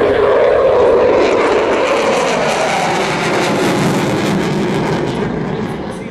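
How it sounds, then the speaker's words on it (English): An F/A-18F Super Hornet jet roaring past with afterburner lit at an air show over Jones Beach, a loud, broad, sustained rushing roar that fades slightly at the end, with a faint voice underneath. "See the afterburner and the glow of that raw jet fuel being poured right into the exhaust."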